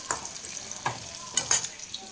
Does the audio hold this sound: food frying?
yes